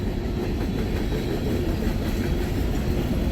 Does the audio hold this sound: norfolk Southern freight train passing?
yes